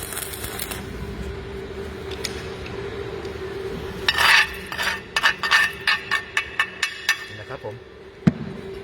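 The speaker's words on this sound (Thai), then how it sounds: "เดี๋ยวเรามาดูตรงที่คนเชื่อมต่อเลยนะครับ ลากกันยาวๆสุดขอบเหล็กเลยครับ" An ARFA 500A inverter welder runs a long bead along the edge of a steel piece. The crackling sizzle swells into a string of rhythmic bursts, and someone talks over it.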